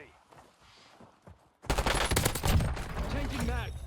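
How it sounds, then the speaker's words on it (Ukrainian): After a quiet, muffled stretch, sudden rapid bursts of submachine gun fire in Call of Duty: Warzone erupt, loud and continuous with sharp repeated shots. "Боже, так жорстко стріляв."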